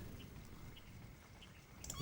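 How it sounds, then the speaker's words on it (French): A cat in the Grim Legends video game gives a short meow near the end, faint, over a quiet hum of background ambience. "Arrête de faire miaou, petit chat."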